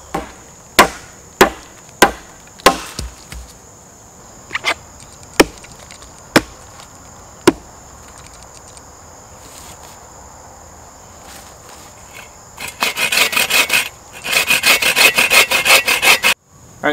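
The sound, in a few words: cutting and whittling a wooden stick to shape a survival slingshot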